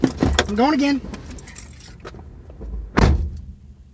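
Keys jangle briefly inside a car at the start, followed by a short electronic whine and later another metallic rattle, with people talking nearby.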